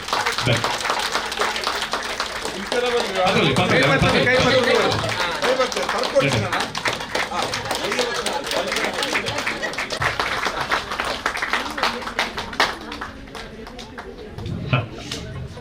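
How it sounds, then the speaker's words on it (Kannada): An audience claps for a couple on stage at a 25th wedding anniversary celebration, producing dense, sustained applause that runs through the whole stretch, with voices talking loudly over it. "ನಾವು ಮಾತ ರಟ್ಟಿ ಕೈ ಜೋಡಿ ಅದು ಒಂಜಿ ಚಪ್ಪಾಳೆ ಕೊಟ್ಟೋಡು"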